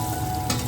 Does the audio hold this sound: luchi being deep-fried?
yes